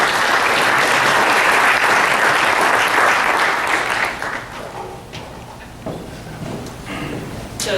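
Audience applause at a healthcare industry talk welcoming someone speaker to the stage, a dense crowd clapping loudly for several seconds and then thinning out into scattered claps.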